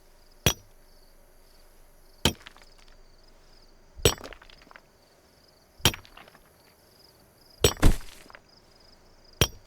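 Sledgehammer strikes while building a base in the video game DayZ: five sharp, evenly spaced metallic impacts, close and loud, with a faint steady insect-like hiss between them and no speech.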